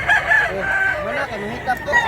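A year-old young rooster, a stag, crows near the mic on a hillside farm, one drawn-out call with a rough, rising-falling shape over faint background noise.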